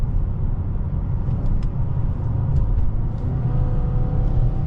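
A 2026 Mercedes-Benz GLA 250 with a dual-clutch transmission accelerates lightly, heard from inside the cabin as a steady low engine drone and road rumble that holds fairly even throughout, with no talking.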